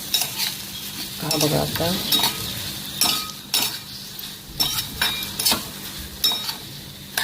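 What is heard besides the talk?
jaggery roasting in a hot kadhai, being stirred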